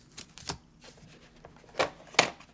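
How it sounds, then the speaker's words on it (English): A small box of dry erase markers is opened, with a few sharp clicks and plastic rattles scattered through an otherwise quiet moment, close and without talk. "let me open up my little box of dry erase markers"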